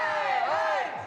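Crowd of protesters rallying in Paris against a vaccine pass, a brief burst of massed voices shouting and chanting together at close range, filling the moment with loud sustained vocal noise.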